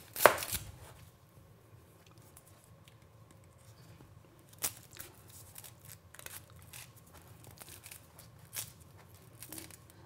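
A knife chopping an onion on a board, with one sharp first cut followed by a run of quiet, irregular taps and thuds, close but soft.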